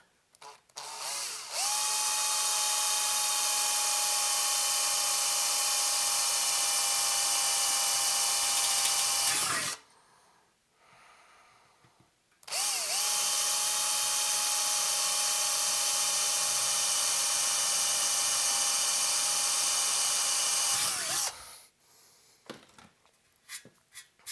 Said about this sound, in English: we're going to come back with our small drill and drill our pilot hole